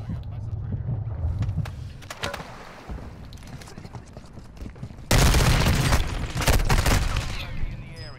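Gunfire in Call of Duty: Modern Warfare II, with scattered shots and a dense, loud burst of rapid fire in the second half, mixed with game noise and brief talk.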